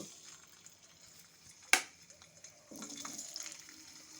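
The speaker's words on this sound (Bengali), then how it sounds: "এখন আমি ওই তেলের মধ্যে আলুগুলো একটু ভেজে নেব।" Potatoes going into hot mustard oil in a wok give a quiet crackle, a sudden sharp hiss partway through, then a steadier, louder sizzle that carries to the end.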